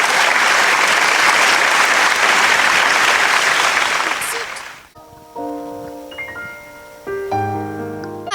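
Loud, dense applause from a school audience at a literature festival, steady clapping that fades out after about five seconds, followed by a few sustained musical tones.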